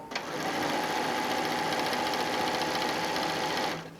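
A sewing machine quilts and tacks down the sides of a quilt-as-you-go cosmetic bag, running at a steady, loud, continuous hum for a few seconds, then stopping.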